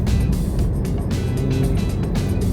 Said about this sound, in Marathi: आता मी आहे कारमध्ये